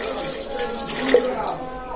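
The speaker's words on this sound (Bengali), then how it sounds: "এখন আমি চিকেনটা সিদ্ধ করার জন্য জল দিয়ে দিব।" Water poured into a pan of spiced chicken curry, a short splashing gush close by over a brief sizzle.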